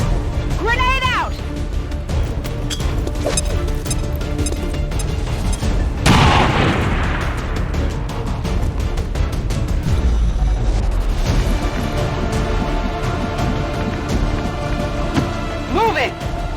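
A grenade goes off in the XCOM 2: War of the Chosen video game, one loud booming blast partway through that is set among game music, effects and voices.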